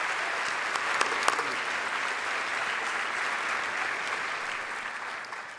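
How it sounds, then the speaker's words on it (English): A large crowd at the 2018 Liberty Medal Ceremony gives sustained, even applause for Ira and Pam, dense steady clapping that holds at one level for several seconds before stopping. "Please give Ira and Pam an extra round of applause for their incredibly generous support"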